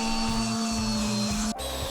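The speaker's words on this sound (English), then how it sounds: "followed by a bit more sanding," A power sander hums steadily while working wood for a subwoofer cabinet build, its motor tone shifting and dipping briefly near the end as pressure changes.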